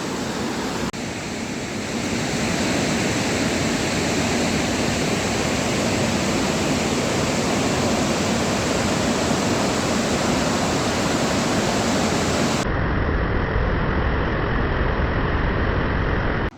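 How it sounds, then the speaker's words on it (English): Steady, loud rushing water roars continuously, a broad white-noise wash with no voices, the Rajdari waterfall near Varanasi heard up close. "this is one of the waterfall known as Rajdari"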